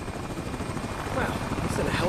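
A helicopter in the video game American Arcadia gives a low, rumbling rotor drone that swells slightly toward the end, close and steady under the game's background sound.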